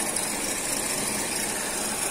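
A Chevrolet Aveo engine idles smoothly and steadily at close range after an engine repair, a constant low hum with a faint high whine, no voices.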